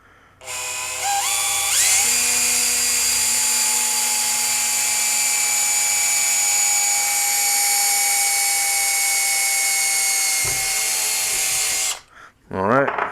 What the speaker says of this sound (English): I'll make a pilot hole first before I go with the 3/8 drill bit.